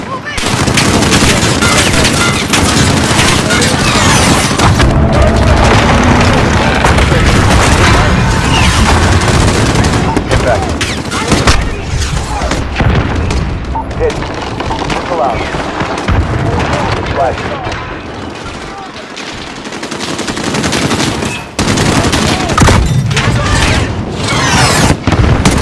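A fire mission pounds the battlefield in Call of Duty Modern Warfare: booming explosions and dense automatic gunfire run without a break, loud and close, with radio chatter and shouted voices buried in the din.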